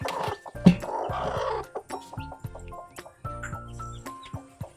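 A hen clucks in short, uneven bursts at close range, with a steady low hum running underneath.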